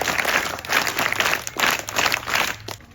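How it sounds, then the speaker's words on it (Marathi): Crowd of guests clapping at a village school function, continuous rhythmic applause from many hands, close and fairly loud throughout. "सर्व मान्यवरांचं टाळ्या वाजवून स्वागत करूया"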